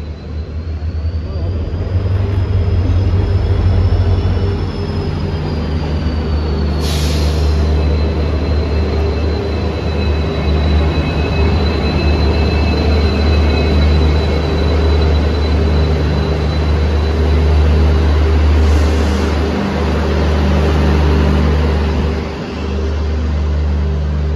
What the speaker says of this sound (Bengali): প্রায় অনেকক্ষণ পর কিন্তু ট্রেন আসলো